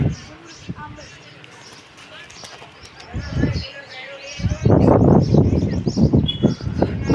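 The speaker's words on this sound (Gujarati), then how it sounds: "અને એક કબૂતર ઉડાડે છે" A pet pigeon released from its coop takes off with a few bursts of wing flaps, loudest in the second half, with soft bird calls and a person talking nearby.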